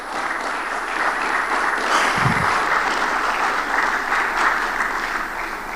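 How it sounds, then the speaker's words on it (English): Sustained applause from a conference audience at Seplat Tech Week 2022, a steady wash of many hands clapping that carries evenly through the whole stretch, with a brief low thump partway in. "I was thinking that would be greeted with a round of applause."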